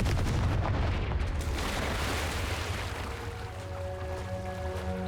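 A Confringo fire spell blasts in the Hogwarts Legacy video game, a loud booming explosion at the start that rolls into a sustained rumbling roar, with tonal game sounds emerging near the end.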